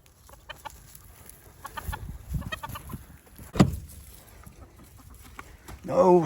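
Backyard chickens clucking and murmuring in short scattered bursts, with a louder squawk midway and a rising cackle near the end, fairly close against a quiet outdoor background.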